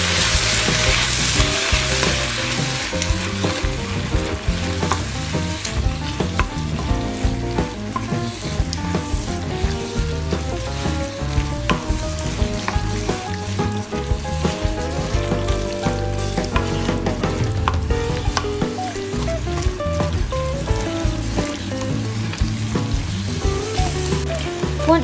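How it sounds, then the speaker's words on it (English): Chopped tomatoes frying and being stirred in a pan for a Slimming World lasagne give a steady, close sizzle that lasts throughout, with a tonal musical backdrop running underneath. "Once the tomatoes are added, stir them in."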